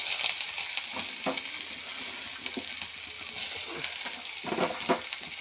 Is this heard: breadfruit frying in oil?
yes